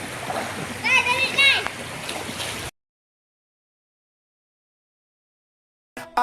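People bathing in a river splash water loudly with children's voices mixed in for a couple of seconds, then everything falls silent before a brief burst of sound returns.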